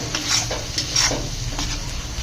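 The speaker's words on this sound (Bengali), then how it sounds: "গ্যাসের আঁচটিকে লো করে দিয়ে তিন থেকে চার মিনিট এই মশলাগুলোকে ভালো করে কষিয়ে নিতে হবে" Spices being sautéed over low heat in a pan for a Bengali katla fish kalia, a soft continuous sizzle broken by a few rhythmic stirring scrapes, close and with no talking.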